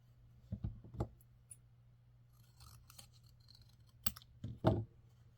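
Scissors snipping paper to trim a piece for a holiday Christmas card book box shadow box: a few close, crisp cuts early on, a quiet pause with faint rustling, then more sharp snips near the end.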